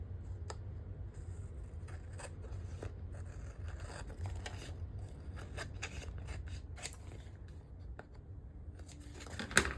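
Scissors trimming small craft pieces for a handmade shaker, a series of quick, close snips and light scraping at irregular intervals, with no talk.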